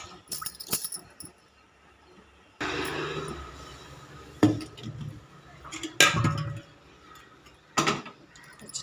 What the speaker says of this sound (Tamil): பருப்பை ஒழுக்கி கல் இல்லாமல் எடுத்து தனியாக கழுவி இப்போ இதை அடுப்பில் வைக்க போகிறேன்